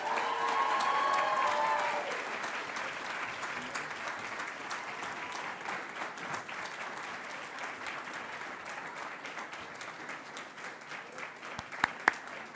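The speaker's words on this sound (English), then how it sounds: "could we give a big round of applause to the graduates of the MSc in Business Management?" Graduates of the MSc in Business Management at an awards ceremony receive a long, steady round of applause from a large hall audience, dense even clapping that carries on throughout, with a brief voice at the very start.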